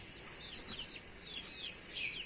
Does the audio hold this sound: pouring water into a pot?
no